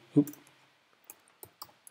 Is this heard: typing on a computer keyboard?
yes